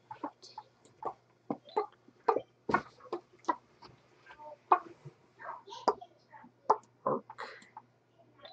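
A person imitates a chicken, voicing a string of short, clipped bawk-like clucks in an uneven rhythm, fairly close and moderately quiet against a faint steady hum.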